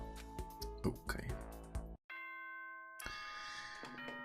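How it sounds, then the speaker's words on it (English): Ding-dong chime from the video game Danganronpa: Trigger Happy Havoc, a clear tonal bell sequence sounding after game noises, with sustained ringing tones. "Ding dong, bing bong."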